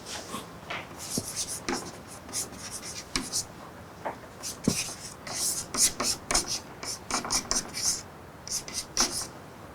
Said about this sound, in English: Should I write it down on the board?